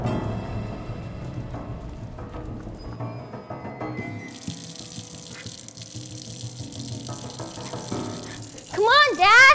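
Water runs from a tap in a steady, moderate stream amid some low background clatter, ending with a loud voice breaking in over it.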